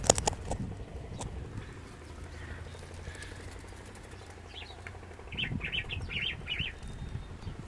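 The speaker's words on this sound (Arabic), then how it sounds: "في بلبل بره ضرب صفارة فهم جم ردين عليه" A bulbul's few short whistles and chirps, somewhat distant, trade back and forth with answering birds over a steady low background rumble.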